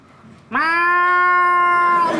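A person mimics a cat with one loud, drawn-out meow after a brief quiet moment, sustained and close for well over a second, tonal and whiny.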